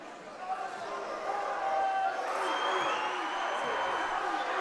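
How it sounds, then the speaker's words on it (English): A crowd cheers and roars at a high school varsity boys' basketball game between SHP and Menlo, a dense, building wash of noise under a commentator's talk. "Gators crowd erupts."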